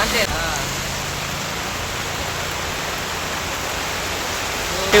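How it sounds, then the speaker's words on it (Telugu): Heavy rain pours down in Korutla, Telangana, in a dense, constant roar, close and loud, with no talking. "దంచుతుంది వర్షం"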